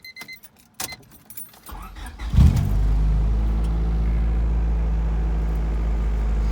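A 1997 Honda Civic with a D16 engine on stiff Yonaka motor mounts starts up after keys jangle, then settles into a loud, deep, steady idle with a heavy low vibrating drone close to the microphone.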